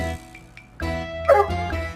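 A dog yelps, whimpers and lets out sharp, squealing barks while being handled, with bursts of loud, shrill cries over about two seconds and a brief voice in between.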